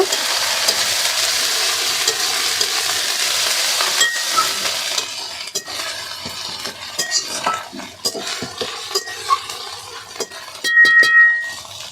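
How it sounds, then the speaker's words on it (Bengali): Ginger and onion paste fries with spices in a pan at a village kitchen, with a steady hiss of sizzling and occasional scraping and clinks of a spoon stirring near the end. "আদা বাটা পেঁয়াজ বাটা তো মশলাটা ভালো করে কষিয়ে নেব"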